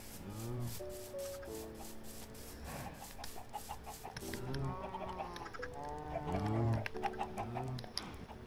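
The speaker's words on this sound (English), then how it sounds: "Come here, chicken." Minecraft chickens cluck in the game, making short, repeated, pitched clucks over a steady rough rubbing, scratchy background that runs throughout, at moderate loudness with no voices.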